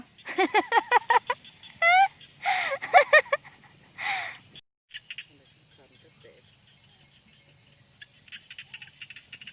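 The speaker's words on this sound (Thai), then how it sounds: "ได้ยินแต่เสียงกบเสียงเขียดห้องได้ยินบ่" Frogs calling at night in rural Laos or Thailand, a dense chorus of rapid croaking pulses and trills in bursts, fairly close, followed by a quieter stretch of steady night insect buzz.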